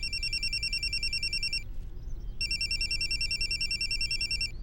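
A telephone rings with a loud, steady electronic trill in two long bursts split by a short pause, over a constant low background hum with no talk.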